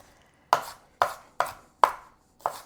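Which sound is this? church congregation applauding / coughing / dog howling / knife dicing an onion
knife dicing an onion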